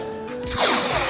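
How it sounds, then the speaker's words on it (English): Masking tape ripped off its roll in the workshop while a bonnet scoop is templated on a Gardner Douglas 427 Mk4 AC Cobra replica kit car: a quick, loud, rising tearing rasp, close and alone. "we'll just use some masking tape to create a bit of a template across here"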